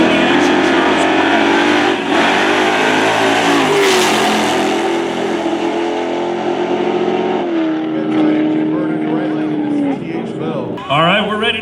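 Drag racing engines, including a Chevy wagon, roar at Lake Cumberland Dragway during the Halloween Havoc 3 event, a loud, sustained, high-revving blare with pitch shifts near the end, and an announcer talks over it.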